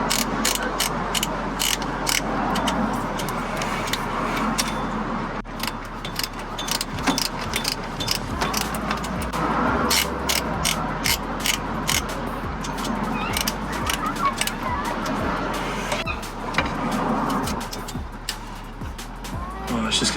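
A hand ratchet turning a car engine's crank during a driveway clutch install, with a fast run of loud, close clicks throughout and people talking over it.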